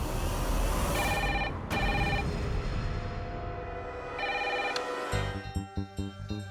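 A telephone rings indoors in a repeated electronic tone, each burst followed by a short pause, fairly quiet, before a brief low clatter at the end.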